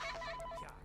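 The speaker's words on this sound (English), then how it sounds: "The phone call's coming." Phone ringing in the video game Ultimate Custom Night: a short, near electronic trill with rapid pulsing beeps, loud and clear for under a second, with no talk.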